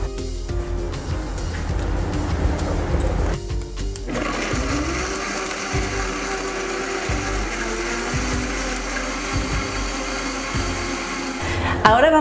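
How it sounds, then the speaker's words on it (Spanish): Blender whirring as it purées guajillo chili sauce with cooking water, a loud motor roar with rhythmic pulsing and a brief pause and restart, with a voice speaking at the start. "Y lo voy a licuar con un poquito de agua de esta de cocción."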